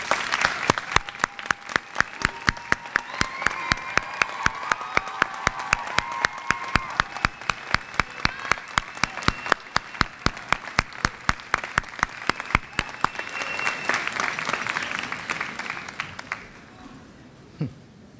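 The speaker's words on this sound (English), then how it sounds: "Could you please stand and let us give you a round of applause?" An audience at a high school graduation ceremony stands to applaud, with steady, full clapping from many hands and a few voices mixed in, before the applause fades toward the end.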